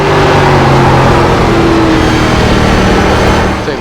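Race car engine heard from on board during an ARCA Menards Series race at Kern County Raceway Park in iRacing, a loud steady drone at high revs with a slight pitch change, continuous throughout.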